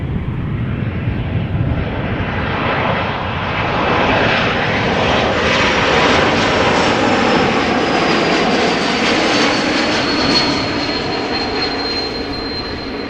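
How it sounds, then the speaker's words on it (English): A brand-new KLM Embraer E2 195 airliner arriving at Amsterdam Schiphol: a loud, sustained jet roar close by that swells and eases, with a thin whistle rising above it. "This is an E2 Embraer 195 from KLM arriving from Manchester"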